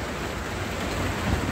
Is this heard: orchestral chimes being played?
no